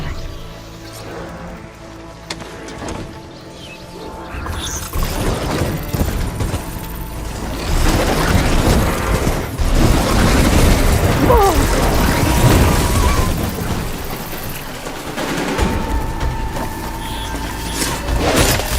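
Shots fired at a machine in Horizon Forbidden West, a long stretch of loud, dense game combat with bangs, crashes and mechanical clatter building after a quieter start.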